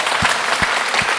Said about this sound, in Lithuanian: galim tiesiog paplokit.